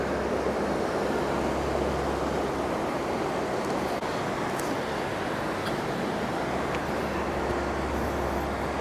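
A river rushing right beside a path at the entrance to a school in an abandoned Japanese village, a loud, steady broadband roar of flowing water with some wind buffeting, continuous and close with no voices.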